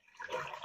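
Stock pours into a pot of black-eyed peas with a short, steady liquid splash that swells and holds for under a second, close and fairly quiet.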